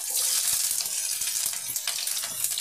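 Green chilies go into hot oil in a pan and fry with a steady, close hiss and crackle of sizzling that lasts throughout.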